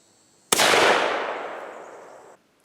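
A Stevens Long Tom 12 gauge muzzleloading shotgun fires a single 1 1/8 ounce load: one sharp, loud blast followed by a long, fading outdoor rumble that lasts nearly two seconds.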